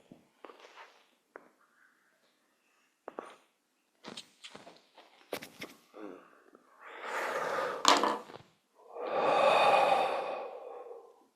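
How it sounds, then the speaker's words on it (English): Slow, deliberate exhalations through the nose during imaginary cigarette breathwork, soft scattered breaths and small movement sounds leading to two long, loud airy out-breaths near the end, quiet and close. "you notice that I'm deliberately breathing out slowly through my nose"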